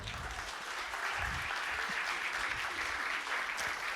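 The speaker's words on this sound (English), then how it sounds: "Big applause for him." A crowd applauds steadily for a man being welcomed at an honorary fellowship ceremony, a dense, sustained wash of clapping filling the hall throughout.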